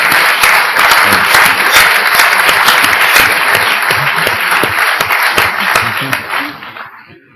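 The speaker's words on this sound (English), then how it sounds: "I think he gets a big round of applause" A big round of applause from a roundtable audience, loud and close, many hands clapping in a thick continuous roar that holds steady, then thins and fades out over the last second.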